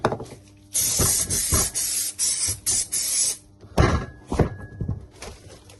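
Several short hissing bursts of an aerosol spray can painting a circuit breaker, separated by pauses, close by, with a few light knocks between sprays.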